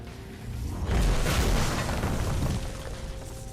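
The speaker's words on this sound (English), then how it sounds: "Last warning shot, Dagger." A loud, booming explosion from a warning shot in Marvel: Ultimate Alliance 2 swells up, holds as a rumbling roar for about two seconds, then thins into lingering noise.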